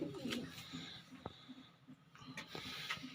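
Andhra-breed pigeons coo softly and repeatedly, with low, rounded calls close by and faint background hiss.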